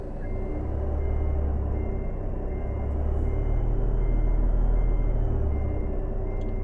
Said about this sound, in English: Helps if you take the parking brake off.